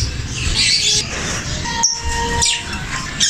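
Pet parrots kept indoors squawk and chirp in several loud, harsh calls with sharp bursts and short tweets, close to the listener, mixed with faint background noise.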